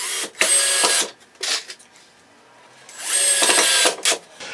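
Power driver screwing pre-drilled Adirondack chair seat slats together, two sustained close whirring drive bursts separated by shorter spurts and quiet pauses.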